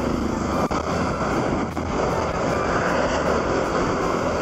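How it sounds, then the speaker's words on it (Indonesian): Strong wind buffets the camera microphone during a road ride between Lamongan and Mojokerto, a loud continuous roaring rush with a few brief dips, close and steady, no talking. "anginnya kencang sekali."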